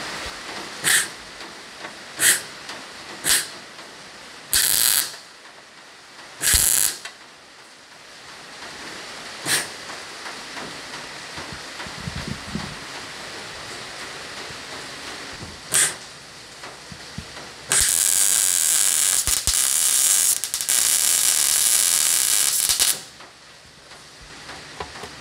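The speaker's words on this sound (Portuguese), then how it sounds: "Então bora soldar agora." MIG welder laying beads on a turbo oil return line fitting for a car's oil pan, sharp short hissing crackle bursts followed by a longer steady buzzing weld run, close up amid garage noise.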